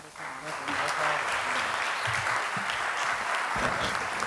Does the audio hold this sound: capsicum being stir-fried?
no